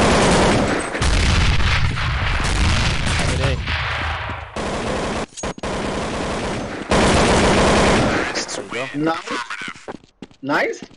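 Dense gunfire in Counter-Strike 1.6 on the Inferno map, rapid automatic bursts and single shots crackling loud and close, broken by brief pauses, with players talking over the shooting.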